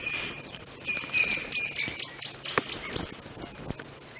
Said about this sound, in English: Lots of birds chatting around here.